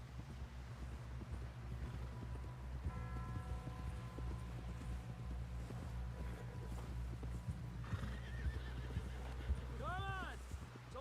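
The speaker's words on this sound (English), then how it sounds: "Someone help John down off this horse." Quiet, distant sounds from the video game Red Dead Redemption 2: a horse whinnies in a rising, wavering cry near the end, with hooves clopping and wind in the background while people talk.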